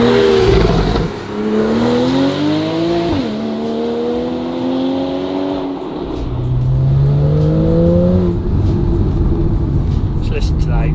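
Porsche Targa 4 GTS exhaust on a drive through villages, loud and close, its engine note climbing steadily in pitch and dropping sharply at each gear change, with a deeper drone in the final seconds.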